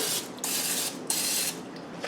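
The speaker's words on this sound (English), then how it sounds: "So we're still gonna spray it with Pam." Pam cooking spray hisses from an aerosol can into a muffin pan in a home kitchen, several bursts of steady spraying broken by short pauses, close and fairly loud.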